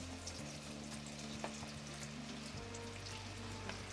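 Onion pieces deep-fry in hot oil in a kadai, giving a faint, continuous bubbling sizzle with scattered tiny crackles, heard with a low steady tonal hum in the background.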